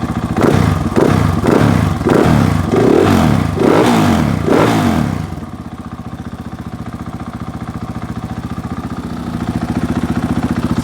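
A Yamaha YZ450F dirt bike engine is fired up in the shop. It blips through several loud revs, then settles into a steady, rapid, even idle that rises slightly toward the end.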